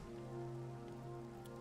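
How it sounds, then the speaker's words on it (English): Rain pattering in modded Minecraft, a faint steady wash of drops mixed with a sustained low musical drone, quiet and constant with no voices. "It's raining."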